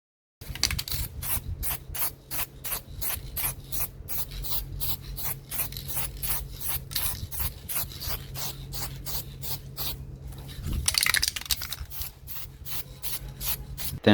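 Steady rhythmic sanding strokes on metal lawn mower parts being prepared for hammer-tone spray paint, repeating about twice per second and fairly close, with no talk.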